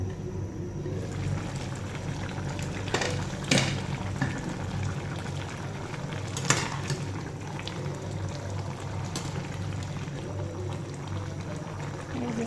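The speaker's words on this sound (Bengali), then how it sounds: "এই যে কচু কষানো হইতেছে।" Taro cooking in a pot gives a steady bubbling simmer, with a few sharper clanks of a spoon against the pot, nearby and continuous.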